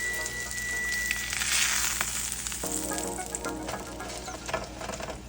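Parmesan-crusted chicken sears in a hot pan with a steady, close oil sizzle and crackle that swells and settles, with a few light clinks and scrapes over it and no talking.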